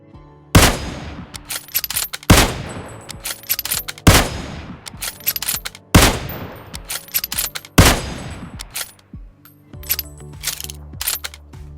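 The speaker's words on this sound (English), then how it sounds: "Even the reloading sound is different for Mosin." Repeated Mosin Nagant rifle gunshots in PUBG Mobile roughly every two seconds, each trailed by metallic clicks and clacks of the bolt being worked, with a run of quick reloading clatter at the end.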